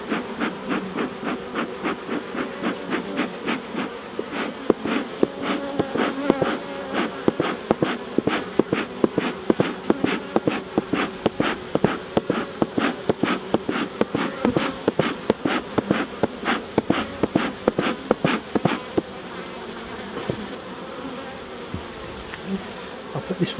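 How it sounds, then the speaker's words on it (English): Honeybees buzz close and continuously during a UK hive inspection as winter approaches, a steady drone with a rapid, irregular ticking running through most of it. "A couple of bees didn't like that."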